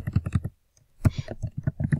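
Fingers type a page title on a computer keyboard while building a Weebly site page, giving a quick run of close, crisp key clicks, a short pause, then another burst of steady tapping.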